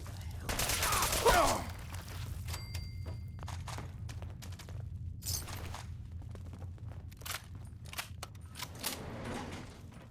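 Gunfire in the Fallout 4 video game: a dense burst of shots early on, then scattered sharp cracks and thuds over a steady low ambient rumble.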